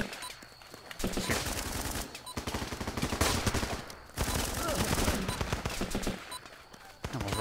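Loud, sustained automatic rifle fire in Running With Rifles, long bursts of rapid shots broken by brief pauses.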